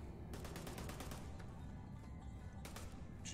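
Gunfire in the sci-fi game Space Nomad: a rapid volley of shots in quick succession, then a second short burst a moment later, quite faint over a constant low rumble.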